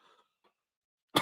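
A man gives a single loud, sharp cough close up at the very end, after a few faint murmurs and near silence.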